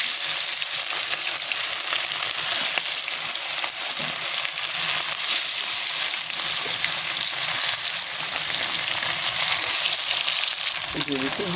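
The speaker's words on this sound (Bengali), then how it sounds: "দিয়ে দেবো তেল মাছ ভাজার জন্যে।" Fish with roe frying in hot oil in a pan on a clay stove, a loud, dense crackling sizzle that continues steadily, with occasional scraping and bubbling.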